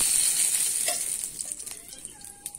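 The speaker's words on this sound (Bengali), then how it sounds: "ফোড়নটা কিন্তু আমার ভাজা হয়ে গেছে।" Panch phoron whole spices crackle in hot oil while being stirred in a pan for mango curry, a loud steady hiss with small pops and a few scraping stirs, no voices.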